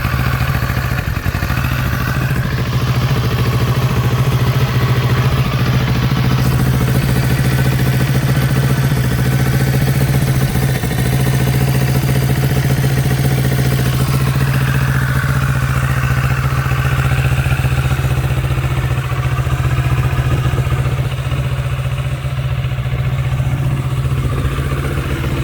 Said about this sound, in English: Engine sounds healthy, runs as it should.